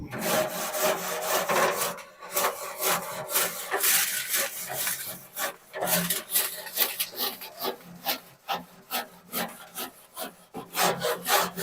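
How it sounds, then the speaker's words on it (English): Hot smoker grill grates on an offset smoker are scrubbed with steady, close, harsh scraping strokes in a continuous back-and-forth rhythm, with no talking. "we're going to open this up and scrub the grates"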